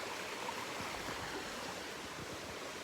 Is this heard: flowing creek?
yes